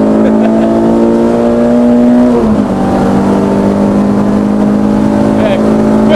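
A 198 bhp RenaultSport Clio 172 weighing 900 kg, driven on a race track: a loud, raw engine drone held steady from inside the car, with a brief dip in pitch partway through before it settles again.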